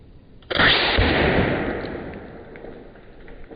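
A quiet sniper rifle is fired at a watermelon outdoors, one abrupt burst that rings out and decays over about two seconds into faint background.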